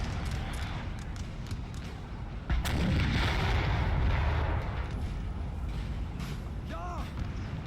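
Cannon artillery booms in a Napoleonic battle in the game Napoleon: Total War, one heavy blast landing midway with a rumbling tail over a steady background of distant battle noise.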